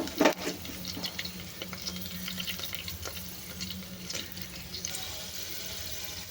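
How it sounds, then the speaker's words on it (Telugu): Curry leaves and coriander frying in a little oil for a restaurant-style mutton trotter curry, a steady close sizzle with crackles and a sharp pop near the start, no talk. "కరివేపాకు కూడా బాగా ఫ్రై అయిపోయింది"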